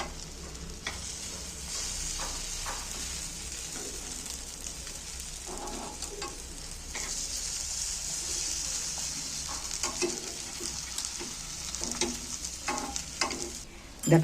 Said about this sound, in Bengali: এক এক করে উল্টো পাল্টে ভেজে নিল এগুলো